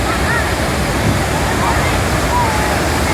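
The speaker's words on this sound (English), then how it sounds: "This is a falls with a lot of water in it," Heavy water pours down Pykara Waterfalls in a loud, steady, broadband roar that fills the whole clip without a break.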